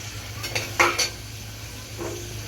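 Onion sautés in a pan for paneer pulao, a low, even sizzle under a few sharp clinks and scrapes of a utensil against the metal; no voices.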